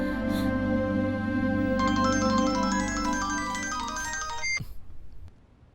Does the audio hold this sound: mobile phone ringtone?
yes